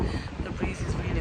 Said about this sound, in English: it's really nice and windy. The breeze is really good.